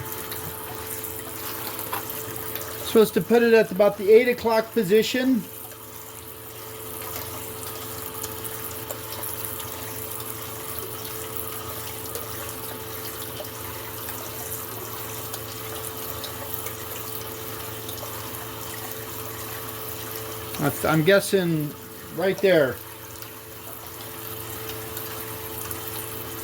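A water pump runs on a power gold panning machine with a steady mechanical hum and flowing water throughout, while someone talks briefly twice over it.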